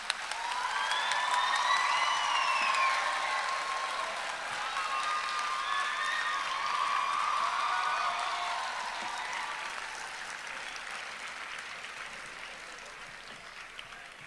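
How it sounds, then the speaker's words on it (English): Sustained audience applause fills a school convocation hall, a dense steady wash of many hands clapping that holds strong for several seconds before gradually thinning and fading toward the end. "A big round of applause."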